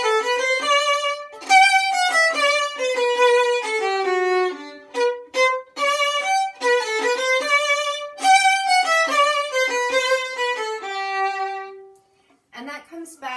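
A bright, plucked or keyboard instrument plays the lively A section of Martini's Gavotte, quick notes and short phrases, pausing briefly near the end.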